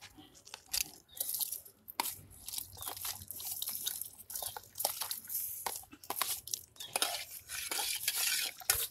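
Washed rice is tipped into a pot of boiling water and stirred while ragi koozh is being made, with scraping stirs, light clatter and a soft bubbling hiss in a close, quiet kitchen.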